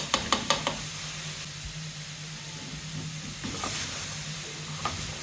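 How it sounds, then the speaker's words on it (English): Spring roll and samosa filling seasoned with salt, pepper and a Maggi cube is stirred in a hot pan: a few quick spoon scrapes and knocks at the start, then a steady close sizzle with occasional clinks. "Stir very well"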